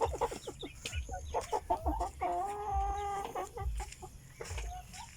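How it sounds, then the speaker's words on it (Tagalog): Chickens cluck repeatedly at close range, with short choppy calls and one longer drawn-out squawk in the middle, over faint background noise. "Ito yung mga manok guys."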